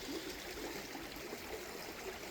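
A creek flowing beside a campsite, a soft, steady trickling and gurgling heard faintly from a short distance with no voices.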